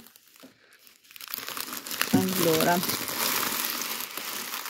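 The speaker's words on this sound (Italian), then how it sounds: "Allora, vado ad aprire l'uovo." Galak and Kit Kat chocolate Easter egg being unwrapped, loud crinkling and crumpling of foil wrapping that starts after a brief word and continues steadily, close to the microphone.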